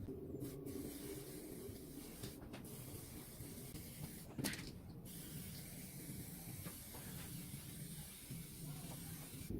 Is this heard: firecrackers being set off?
no